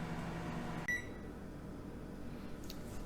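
A microwave oven cooking corn on the cob gives a steady low hum and whir. A single short beep cuts in partway through, and after it the running noise drops to a quieter hum.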